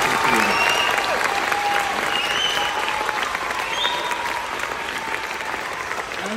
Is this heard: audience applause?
yes